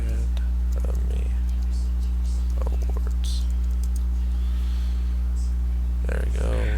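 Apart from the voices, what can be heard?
typing on a computer keyboard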